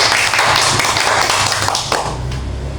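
A small group of students in an Indonesian classroom session claps hands in a brief round of applause, a dense, close patter of taps that tails off quickly.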